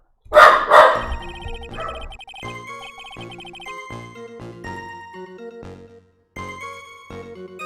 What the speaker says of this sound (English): The small puppy, the new puppy is very talkative.